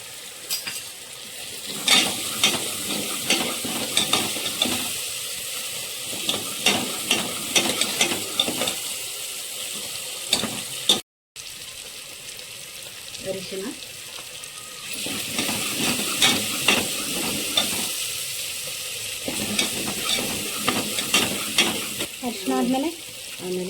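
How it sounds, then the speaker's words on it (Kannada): Onion and tomato fry with mutton fat in a village kitchen pan, a steady close sizzle running throughout with repeated clinks and scrapes of a stirring spoon, broken by a brief gap in the middle. "ಈರುಳ್ಳಿ ಟೊಮೆಟೊ ಫ್ರೈ ಮಾಡ್ಕೊಳ್ಳಿ ಆಮೇಲೆ ಇದು ಚರ್ಬಿ ಇರುತ್ತಲ್ಲ ಅದನ್ನು ಹಾಕೊಳ್ಳಿ ಅದು ಎಣ್ಣೆ ಬಿಟ್ಕೊಳ್ಳುತ್ತೆ"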